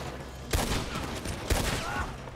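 Gunfire in a Red Dead Redemption 2 shootout: two sharp, loud shots about a second apart, each followed by a brief rumbling tail, with a steady background bed between them.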